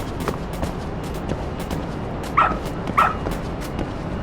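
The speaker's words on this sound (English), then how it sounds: "Good dog. Very good dog." Dog giving two short, sharp yips or barks over steady outdoor background noise during tracking work, with faint whimpering sounds around them.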